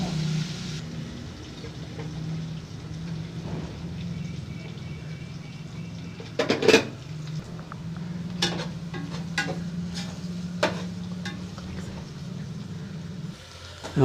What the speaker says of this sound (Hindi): ये हम प्याज को भूनेंगे जब तक ये गोल्डन ब्राउन ना हो जाए।